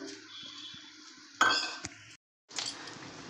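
Turmeric-coated tomatoes go into a pan of cooking red lentils, bringing a couple of sharp clatters and clinks of utensils against the pan, a brief hush, then a soft rising sizzle.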